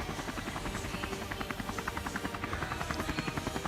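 A helicopter covering a mountain bike race drones steadily overhead, its rotor giving a fast, even pulsing throb that stays loud and constant with no talk over it.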